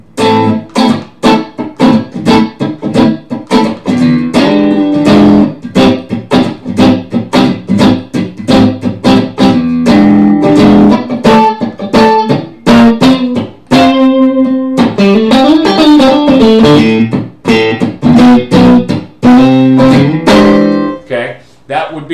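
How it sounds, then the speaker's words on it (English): Smooth jazz rendition of the opening measure or two of a piece, with dense harmonic chords and melody lines playing continuously and loudly throughout, steady and full with no pauses. "That would be the first measure or 2 of his piece of music played in like a smooth jazz style."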